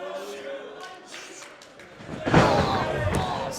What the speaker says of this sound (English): Slamming those knees down.